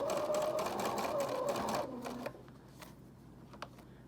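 A sewing machine stitching hard through multiple layers of flannel for a reversible rag quilt, a fast rattling whir for about two seconds before stopping, followed by faint clicks in near quiet.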